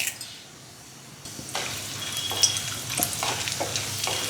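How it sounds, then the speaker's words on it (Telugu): Urad dal, chana dal, mustard seeds and cumin fry in hot oil for a tempering for curry leaf rice. A soft sizzle swells into steady, close crackling with stirring scrapes and small pops. "నూనె వేడెక్కిన తర్వాత తాలింపు గింజలు వేసుకుందాం"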